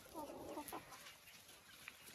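Hens, young hens and chicks cluck softly and intermittently while pecking at long grass through a mesh, with a brief louder cluck near the start and quieter farmyard pecking sounds afterward.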